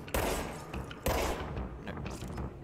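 Gunshots in the video game Control, two heavy booming blasts about a second apart followed by a burst of quicker rattling fire, loud and close with no talking.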